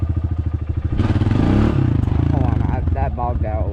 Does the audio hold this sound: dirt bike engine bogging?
yes